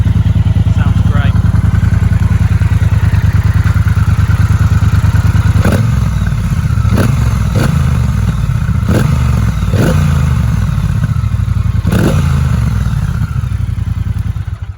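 A Triumph Bobber Black motorcycle engine idling loud and close with a steady low rumble, then several sharp throttle blips and revs in the second half, while someone talks over it.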